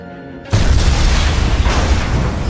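A bomb going off in the video game Batman: The Enemy Within, a sudden loud boom after brief quiet, followed by a sustained roaring, rumbling blast that carries to the end.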